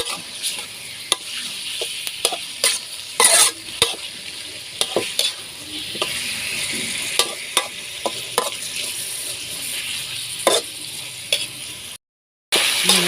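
Sliced pork belly stir-fried in a hot pan with garlic, a steady sizzle with repeated scraping and clacking of a spatula, close and alone with no voices, briefly cutting out near the end.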